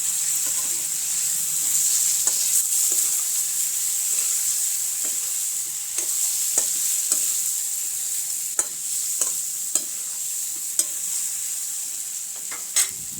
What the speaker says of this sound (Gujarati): અને આ રીંગણને સરસ રીતે મિક્સ કરી લઈશું